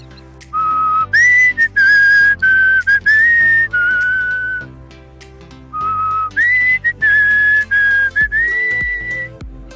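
A person whistles a melodic tune on request during a live stream, in two clear, close phrases of sliding notes separated by a short pause, with no talking.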